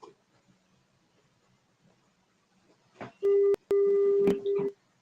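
A phone call rings out on a line where someone is not answering, with a steady electronic tone in two long bursts and a shorter third, loud and close after near silence.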